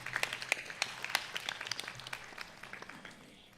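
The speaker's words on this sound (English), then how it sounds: "We welcome him once again with a huge round of applause." A modest audience gives scattered, individually distinct claps at a devotional music event, fairly faint and thinning out toward the end.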